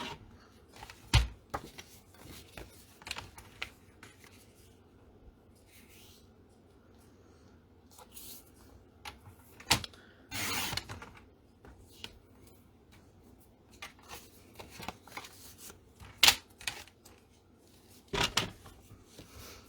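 Card stock is trimmed down to size for a handmade card, heard as sporadic quiet cuts, rustles and sharp taps spread across a mostly quiet stretch with no talking.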